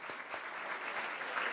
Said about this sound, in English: Give those guys a little round of applause, please.